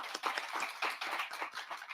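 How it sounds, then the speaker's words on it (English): An audience at an evening event on prostate cancer applauds, a steady, fairly soft patter of clapping from many hands throughout. "You can applaud that, yes."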